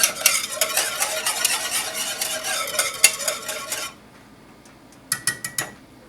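Vegan gravy made with dairy-free milk is stirred in a pan, with busy scraping and clinking strokes for about four seconds, then a pause and a few separate knocks near the end.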